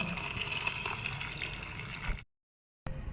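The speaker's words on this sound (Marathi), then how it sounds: "आता यामध्ये आपल्याला गरम पाणी घालून घ्यायचं आहे" Hot water pours steadily over khapli wheat in a pot, a continuous splashing stream for about two seconds, then cuts off abruptly; a brief bit of noise returns at the end.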